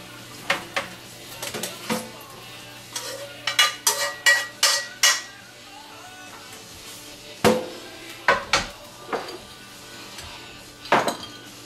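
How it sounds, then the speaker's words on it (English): Metal spoon pressing cooked ground meat into a strainer in a kitchen sink to drain the grease, giving irregular sharp clinks and scrapes in clusters, moderately close, with quiet pauses between and no talk. "Just going to use a spoon to push down on this and get all the grease out of it"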